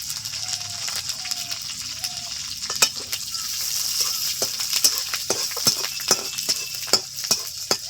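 Crushed ginger and green chilies fry in oil for a Bengali katla fish curry, a moderate crackling sizzle punctuated by sharp spatters and spoon clicks against the pan.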